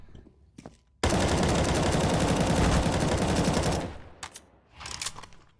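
Sustained automatic gunfire in the video game CS:GO, a dense rapid burst lasting nearly three seconds, loud and close, with scattered single shots before and after.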